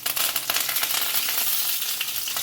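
Curry leaves crackle in hot oil with mustard seeds and garlic for a Konkani-style pumpkin bhaji, a dense, steady, close sizzle with quick spitting pops throughout.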